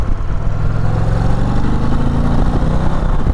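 An Indian Challenger motorcycle pulls hard to overtake a car on an open road, its deep engine note loud and steady, rising gradually, with heavy wind rush over it.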